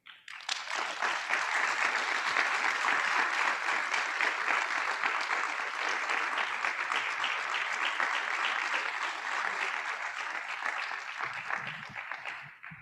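A room full of people at a board of education meeting breaks into sustained applause, loud and even for about ten seconds before tapering off near the end.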